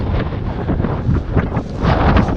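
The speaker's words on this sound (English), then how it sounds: "The wind." Wind buffets a microphone on a dry, grassy hilltop in Galloway Forest Park, a loud, steady low rumble that gusts a little and carries no other sounds or voices.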